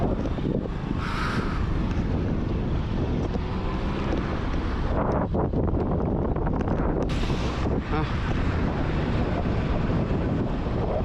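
Strong, steady wind roars and buffets the microphone throughout at a hilltop view deck on a bike ride, a loud continuous rush with no voices.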